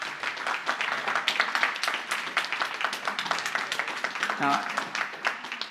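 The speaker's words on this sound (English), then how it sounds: "I appreciate the applause" Applause from a planning commission meeting audience, steady clapping sustained for several seconds with a voice speaking briefly over it.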